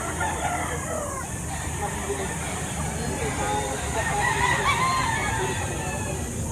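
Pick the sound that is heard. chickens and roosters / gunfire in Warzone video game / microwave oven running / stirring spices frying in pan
chickens and roosters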